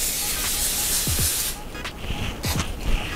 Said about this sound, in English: You gonna spray the thing with nonstick spray?